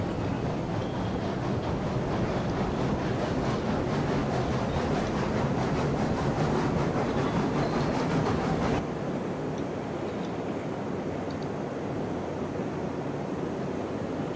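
Train in the Railroads Online video game pulling a boxcar into a rail yard: a continuous rumbling, rattling roll with faint rhythmic clatter, which cuts off sharply partway through, leaving a quieter ambient hum.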